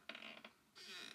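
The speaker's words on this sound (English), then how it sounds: "It's like a rocking chair." A rocking chair creaks, two short wooden groans followed by a longer drawn-out creak, quiet and close with no other sound around it.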